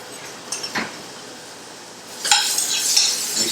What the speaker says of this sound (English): At this point, we add our cooked lentils.